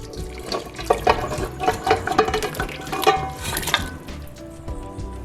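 Pressure-cooked Jamaican curry oxtail is tipped back into a cooking pot with wet, sloshing splats and clatter, in several uneven bursts close by, then settling into a quieter simmer.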